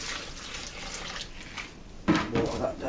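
Tap water runs for thinning coloured pottery slip, a soft hiss that swells into a louder splashing pour near the end, with a voice speaking over it.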